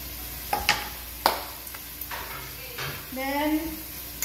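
Onions added to a hot pan with olive oil, giving a few clattering stirs and knocks, then a rising sizzle, with a voice talking over it.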